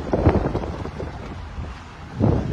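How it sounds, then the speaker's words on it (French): Wind buffets a sailboat's microphone in a broad, steady rushing roar with low rumble, swelling in strong gusts at the start and again at the end, with no voices. "Je vais me mettre à l'abri du vent."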